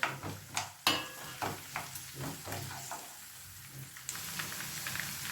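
Green chilies fry and get stirred in hot oil in a pan for ginger pickle, a soft crackling sizzle broken by several scraping stirs and clinks of the spoon, close and fairly quiet.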